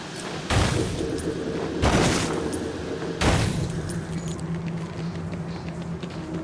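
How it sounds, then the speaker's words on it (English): Gunfire between armed groups sounds in the Coventry district of the video game Batman Arkham Origins as three heavy, booming bursts about a second apart over a steady rumbling background. "we've received reports of shots fired inside the Coventry district"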